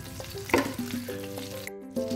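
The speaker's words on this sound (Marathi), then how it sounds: "ह्याला इथं आम्ही आता तेलामध्ये फ्राय करून घेऊया या मसाल्याला" Masala fries in oil in a pan with a soft, close sizzle over a brief stretch, joined by faint tonal sounds and a short gap near the end.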